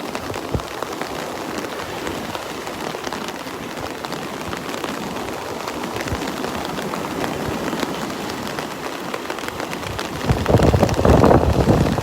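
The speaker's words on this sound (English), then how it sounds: "That rain is cold." Cold, wind-driven rain falls on Vanderbilt Beach, a steady close hiss and patter of drops on the surface and the microphone, with gusty rumble that grows louder near the end.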